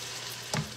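Pansit gisado noodles and vegetables frying in a pan while being stirred, a steady close sizzle broken by one brief scrape or knock of the utensil.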